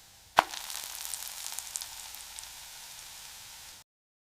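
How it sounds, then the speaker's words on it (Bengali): Aloo paratha frying in ghee or oil on a hot tawa: a sharp hit at the start, then a steady sizzling crackle that slowly fades before cutting to silence. "গরম তাওয়ায় ঘি বা তেল দিয়ে দুই দিক সোনালি করে ভেজে নিন।"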